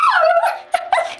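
A dog whimpers in a long rising and falling whine, then gives two short sharp yips, close by in a quiet indoor setting.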